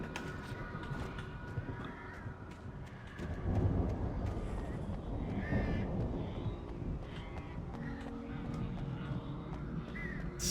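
Crows caw repeatedly in the video game Alan Wake, harsh calls from middle distance over a busy, shifting background of footsteps and movement, with a voice briefly heard.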